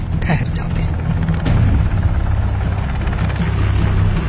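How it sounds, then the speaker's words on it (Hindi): Two helicopters hover over a secluded mansion in Abbottabad at night, a loud, continuous rotor and engine roar that stays steady and close throughout. "तभी 2 हेलीकॉप्टर एबटाबाद की इस गुमनाम हवेली के ऊपर आकर ठहर जाते हैं"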